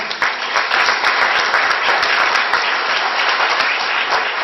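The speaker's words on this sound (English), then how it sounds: "let's still give them a nice round of applause" Steady, loud round of applause from an audience at a school district board meeting honoring students, a continuous wash of many hands clapping at even intensity throughout.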